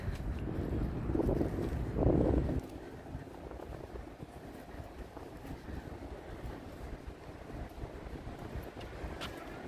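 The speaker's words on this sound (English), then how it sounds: "You do hear the wind?" Wind gusts outdoors at a Veteran's Day event in Washington, DC, buffeting the microphone with heavy low rumble, strongest in the first few seconds and then easing to a steady, rougher blowing.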